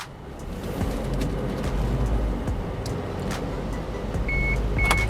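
Steady road and engine hum inside a 2019 Isuzu MU-X 1.9 diesel SUV while driving, a continuous moderate drone with a couple of short electronic beeps near the end.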